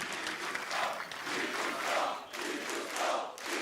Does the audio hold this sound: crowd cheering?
yes